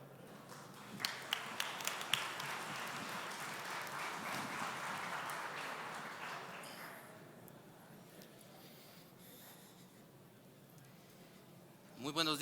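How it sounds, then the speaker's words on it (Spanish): An audience at a national coffee congress claps to welcome a speaker, with a few sharp taps leading into several seconds of steady moderate applause that fades out, followed by quiet room tone. "Por favor, démosle la bienvenida con un aplauso."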